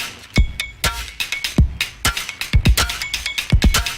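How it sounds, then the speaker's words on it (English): Punchy drum hits with a deep, thuddy low kick mixed among sharper cymbal and snare strikes in a quick, loose pattern, up close with no talking. "Found a nice Thuddy kick."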